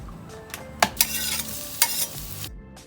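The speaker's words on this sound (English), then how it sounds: "With any kind of vegetable oil of choice, we are stir frying our garlic and ginger together" Garlic and ginger stir-fried in vegetable oil in a wok for a Thai sweet and sour fish dish, with steady close sizzling broken by a few sharp clanks and scrapes of stirring, then the sizzle cutting off near the end.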